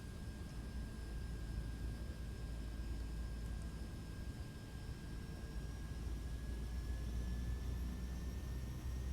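A De Havilland Otter's PT6 turboprop drones steadily during a takeoff run in an Alaskan flight simulation, a constant low rumble with a thin high whine.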